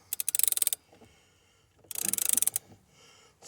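Click-type torque wrench tightening the steering wheel nut on a 2014 Nissan Frontier, two close bursts of rapid ratcheting clicks separated by a pause, loud and dry with no talk.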